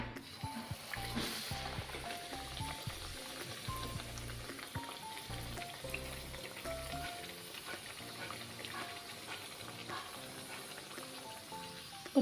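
Spicy puris frying in hot oil, a soft continuous crackle and bubbling hiss heard faintly under background music throughout.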